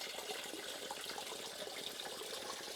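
Water from a home water heater drains off during a pressure relief valve replacement, making a steady hissing, rushing flow with faint gurgling throughout, close and continuous without speech.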